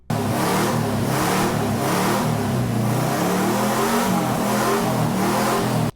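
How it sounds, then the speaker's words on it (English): A 1969 Saab 96 engine runs steadily and loudly close by for the whole stretch, its rough mid-pitched exhaust note pulsing with a few gentle swells in revs and no voices over it. "This is what it sounded like when I got it running a few months ago."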